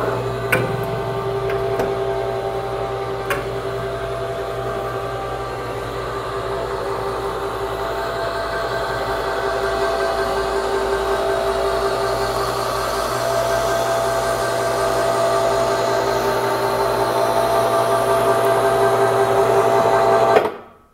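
A Harbor Freight electric hoist rigged as a dumbwaiter lift runs with a loud, steady motor whine and mechanical hum that lasts the whole ride and stops abruptly at the end.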